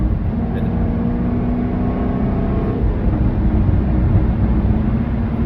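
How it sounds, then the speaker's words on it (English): A 575-horsepower Jaguar F-Type SVR engine drones loudly and steadily from inside the car, a deep continuous rumble with slight swells. "the sounds that you hear coming out of this engine are incredible"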